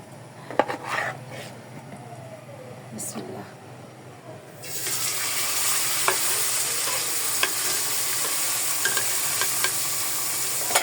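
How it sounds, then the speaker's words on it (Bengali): Fish fries in a pan. After a few seconds of clinks and quiet background a loud, even sizzle starts abruptly and continues with scattered pops, close by, and a voice speaks faintly beneath it. "কিন্তু মাছটা ভাজি করি"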